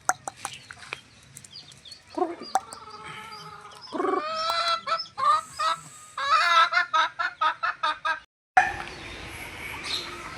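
Breeding hens and gamefowl cluck and squawk in a busy, uneven chorus, with a rooster-like call among them, fairly close and loud, broken by a brief silence near the end.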